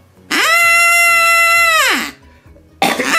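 A handheld game call blown to imitate a female Sasquatch: one long, loud, sustained wavering wail with rich harmonics that falls off at the end, followed after a short pause by the start of a rough burst.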